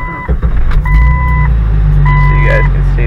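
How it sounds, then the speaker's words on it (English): A Jeep Cherokee XJ engine starts and settles into a steady, close, low idle rumble, with short electronic tones sounding over it. "So I'm going to turn on the engine."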